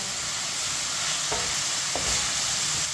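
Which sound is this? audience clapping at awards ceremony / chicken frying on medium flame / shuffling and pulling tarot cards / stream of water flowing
chicken frying on medium flame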